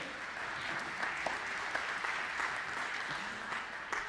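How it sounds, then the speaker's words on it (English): Audience applause after a bass drum solo at a community concert band performance, a faint, distant, steady patter of clapping with a few sharper individual claps standing out. "a big round of applause for Bob on the bass drum"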